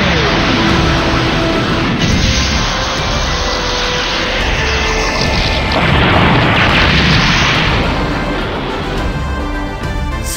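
Mobile suit weapon firing in SD Gundam G Generation World, a loud booming blast with crashing, noisy roar sustained over several seconds.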